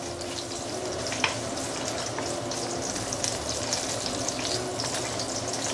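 Ginger frying in hot oil for Singapore hokkien prawn noodles gives a continuous close sizzle with light stirring scrapes and small pops, steady in level.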